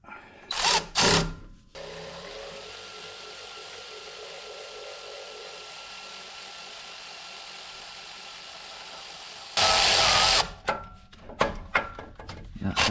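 A power tool with a socket whirs in two loud bursts on the suspension bolts of a 2025 Jeep Gladiator Rubicon during a lift install, separated by a long stretch of steady background hum.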